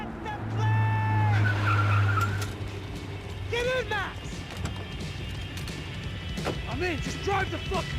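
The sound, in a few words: car driving and skidding in a video game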